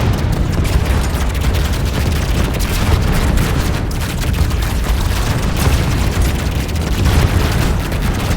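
Ships blowing up in AI War 2 space combat, a dense, continuous barrage of loud overlapping booms and crackling blasts with no break.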